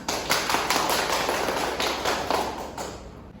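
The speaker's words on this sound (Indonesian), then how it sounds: "Mari kita berikan aplaus untuk kita semua" A classroom of students applauds together after group presentations, a dense, steady patter of many hands clapping at close range for a few seconds.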